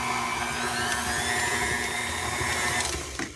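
Electric mixer creaming chocolate fudge cake batter on medium speed, a steady continuous motor whine with a high buzzing hum that holds evenly throughout before easing slightly at the very end.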